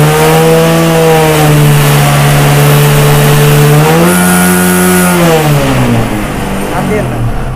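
A motorcycle engine being revved while its charging fault is checked, a loud sustained mechanical drone that climbs in pitch and then falls away, with no speech heard.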